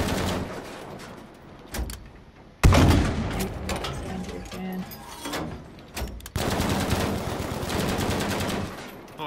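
Gunfire in Battlefield 5 Firestorm mode: a sharp loud shot at the start of a sustained stretch of rapid firing and battle noise, then another long burst of shots later, with voices talking over parts.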